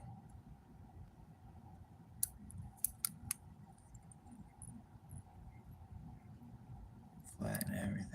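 Small scissors snip thread at a fly-tying vise, giving a few quick crisp clicks in the middle of the clip, with a low hum underneath and a voice speaking near the end.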